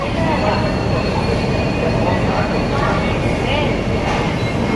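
Railway station at night, a loud, steady rumble of a train moving on the rails with faint wheel squeal and a murmur of voices mixed in.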